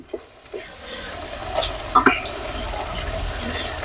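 Field rats being stir-roasted in a pan, giving soft sizzling and scraping stirring sounds with a few brief clinks, while someone talks over the cooking.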